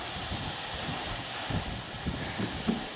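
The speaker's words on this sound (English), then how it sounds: "it's pretty windy today" Gusty outdoor wind buffets the microphone on a blustery day, a steady broadband rush with low rumbling gusts swelling now and then, no other sounds standing out.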